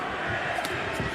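Chicago crowd roaring at a Bellator MMA fight between Raufeon Stots and Danny Sabatello, a dense, loud sustained crowd noise with a couple of sharper shouts cutting through, brief.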